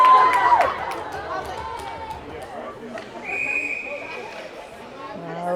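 A referee's whistle sounds at a 16U youth ice hockey game, a sharp whistle blast heard twice, with a longer sustained tone in the middle. It comes over arena crowd noise and chatter.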